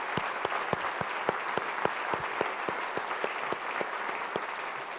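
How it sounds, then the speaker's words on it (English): An audience at an energy economy event applauds with a steady patter of clapping. A few sharper individual claps stand out at a regular pace throughout the five seconds. "I want us to begin by giving a big round of applause"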